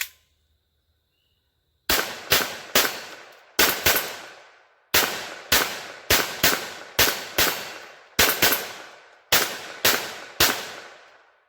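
A Kel-Tec P17 .22 pistol firing 40 grain Federal Auto Match rounds outdoors, about fifteen sharp, loud cracks in quick irregular bursts after a brief quiet start, each shot ringing off briefly.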